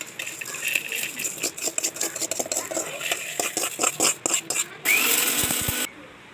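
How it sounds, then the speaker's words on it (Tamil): Clinking and scraping of utensils, then a mixer grinder roars loudly for about a second grinding fried spices into powder before cutting off. "இப்போது இந்த ஃப்ரை பண்ணினது எல்லாம் ஒரு மிக்ஸி ஜாரில் போட்டு நல்லா ஃபைன் பவுடராக கிரைண்ட்"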